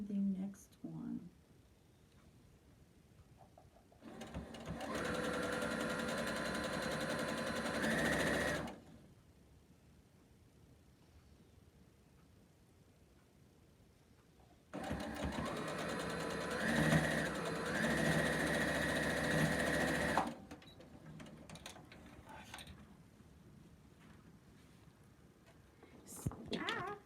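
Sewing machine stitching pieced quilt sections, two steady runs of several seconds each with a quiet pause between, fairly close and loud, no talk over the motor.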